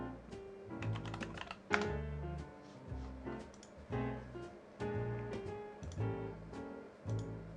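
Fingers type on a computer keyboard, an MF68, with continuous close clicking and clacking of keys in uneven bursts and short pauses, loud and alone with no talking.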